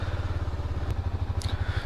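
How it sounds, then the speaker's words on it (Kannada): A KTM Duke 250 BS6 motorcycle idles steadily while warming up in the early morning, its low engine pulse even and close, with a faint brief clatter over it. "ಸ್ವಲ್ಪ ವಾರ್ಮಪ್ ಆಗಲಿ. ಬೈಕ್"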